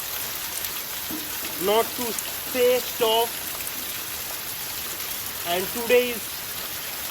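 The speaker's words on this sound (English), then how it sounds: "This is the downpour in my place." A heavy rain downpour hisses steadily and evenly outdoors, a dense wash of falling water heard under someone speaking now and then.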